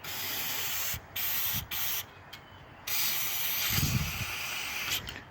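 Fluid Film lubricant sprayed onto the tailgate hinges of a dump trailer, a close pressurized hiss in several bursts, three short ones and then a longer sustained spray, with no talking.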